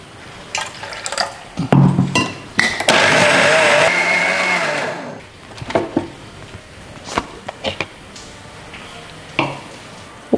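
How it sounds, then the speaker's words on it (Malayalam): A mixer grinder runs a jar of soaked urad dal in one loud whirring burst lasting a few seconds, framed by nearby clatter, knocks and splashes of water from handling the jar. "അപ്പോൾ ആദ്യം നമ്മുടെ ഉഴുന്ന് നന്നായിട്ട് കുതിർന്നുണ്ട്, അതരയ്ക്കാം."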